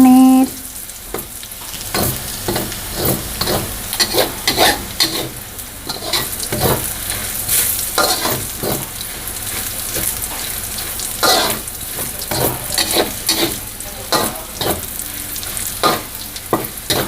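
Garlic and pork stir-frying in a pan, a steady loud sizzle broken by repeated scraping strokes of a spatula, close up and with no talking over it.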